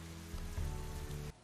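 Rain pours in a scene from One Tree Hill, a steady hiss of water falling on surfaces with a faint musical hum underneath, cutting off abruptly at the end.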